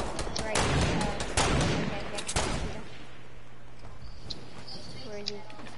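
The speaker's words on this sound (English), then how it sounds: "people to our right shoot at us" Dense, rapid gunfire in a 20v20 multiplayer video game match, loud bursts of overlapping shots that thin out into distant sporadic pops while players talk.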